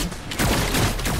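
Rapid video game gunfire, a dense burst of overlapping shots that grows louder partway through, close and sharp with no talking.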